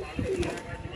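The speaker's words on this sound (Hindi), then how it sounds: "शाहजहांपुरी हरा कबूतर है ये" A Shahjahanpuri green pigeon gives a short, soft, low coo close by, with faint background noise in a brief moment.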